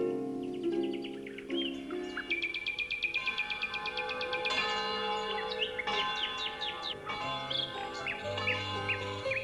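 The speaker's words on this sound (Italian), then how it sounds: "nella valle suonavano le campane e gli uccellini cantavano felici" Church bells ring out across a mountain valley while many small birds chirp and sing close by, a dense, steady chorus of bright tweets layered over the ringing tones.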